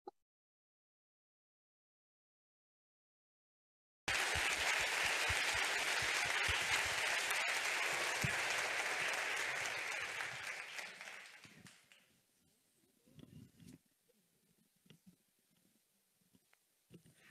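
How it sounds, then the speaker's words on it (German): A large audience bursts into loud, sustained applause welcoming a nurse speaker at a German cancer survivors' event, the clapping fading out after several seconds into a few scattered claps and low room noise, following a brief silence at the start. "begrüßen wir jetzt mit einem großen Applaus"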